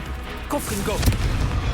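A Confringo blast spell cast in the Hogwarts Legacy video game: a booming, crackling explosion that rises under a shouted voice and peaks in a sharp burst about a second in, with a rumbling tail after it.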